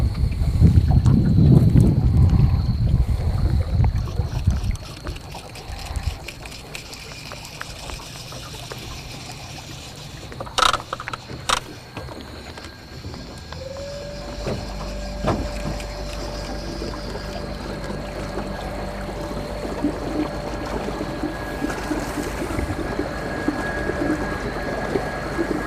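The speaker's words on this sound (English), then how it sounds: "That trolling motor's powerful." Water trickles and splashes around a boat, then a small electric trolling motor starts up and hums steadily through the rest.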